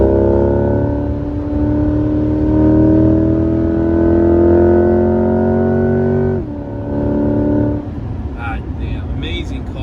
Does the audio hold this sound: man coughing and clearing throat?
no